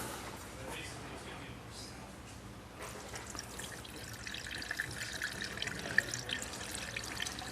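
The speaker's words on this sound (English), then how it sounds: "we're gonna dump this whole gallon, distilled water" Distilled water poured from a gallon jug into a container, a steady splashing gurgle that grows louder and busier partway through while someone talks.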